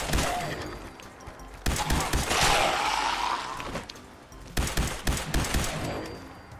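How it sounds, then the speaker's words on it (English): A laser rifle in Fallout 4 fires in rapid bursts of sharp crackling shots, two clusters separated by a lull of louder combat noise. "a mighty laser rifle, which is what we're using right now"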